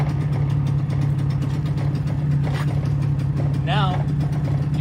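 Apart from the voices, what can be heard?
portable generator engine starting and idling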